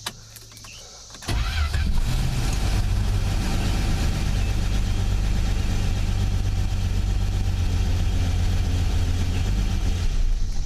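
An old forgotten Plymouth Valiant engine catches after a brief cranking and then runs steadily at a loud, close rough idle for the remainder, with no talking.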